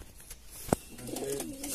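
Pigeons in a high-flying pigeon loft, one brief soft coo amid faint rustling and background noise, quiet and fairly close.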